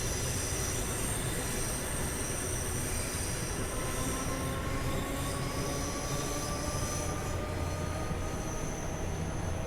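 Train wheels squeal at a station in Train Sim World 2 on the Cathcart Circle Line near Glasgow Central, a steady high metallic screech held over a continuous rumble of rolling stock for the full stretch, with no talking.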